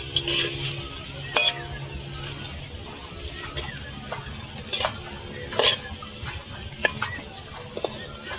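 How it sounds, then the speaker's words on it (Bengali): Loitta (Bombay duck) fish chops fry in oil in a pan, giving a steady sizzle with sharp clinks and scraping stirs scattered throughout, heard close. "খুব সুন্দর হচ্ছে ভাজাটা"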